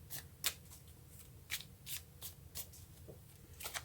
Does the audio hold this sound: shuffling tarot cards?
yes